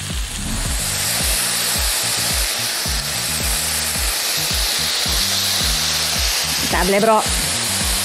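Chicken seasoned with salt and pepper sears quickly in a hot frying pan for a chicken soup hotpot, giving a loud, steady sizzle throughout, with a brief voice speaking near the end.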